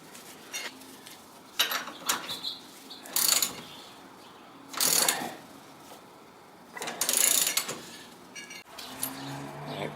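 Lug nut spun down a lubricated wheel stud with washers to draw it into a 2007 Honda Accord rear hub: close, intermittent bursts of metallic ratcheting and clicking separated by short pauses, with no talk.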